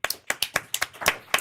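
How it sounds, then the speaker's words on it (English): A small group claps at a regional transportation commission meeting: sharp, close hand claps in a short, uneven burst lasting about a second and a half. "we'd love to give you a round of applause."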